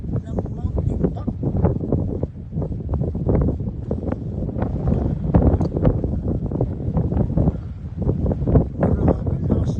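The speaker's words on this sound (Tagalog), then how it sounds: "Grabe, lakas ng hangin." Strong wind buffets the microphone on the summit of a mountain about 2,717 m above sea level, a loud continuous rumbling roar with gusts throughout, while people talk over it.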